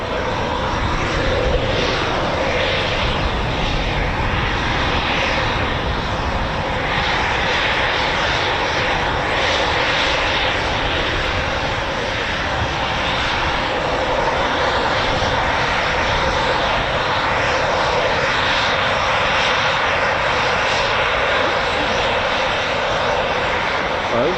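Eurofighter Typhoon FGR4 jet taking off on reheat at RAF Coningsby, a loud sustained broadband roar filling the whole stretch with no clear rise or fade.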